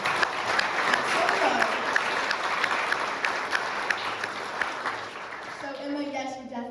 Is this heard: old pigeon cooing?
no